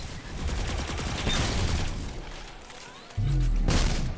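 A Void grenade goes off in Destiny 2 during a solo run of the Perdition Legendary Lost Sector, a loud burst of blasts and gunfire-like crackle that drops away, then a heavy thump hits near the end.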